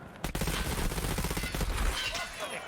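Rapid bursts of gunfire from a competitive first-person shooter match on the Bowl map, dense and continuous across the clip, with the shots overlapping one another and a commentator's voice running underneath.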